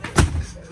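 A door slams shut in a home, one heavy close thud with a short rumbling tail, close by, followed by faint room noise.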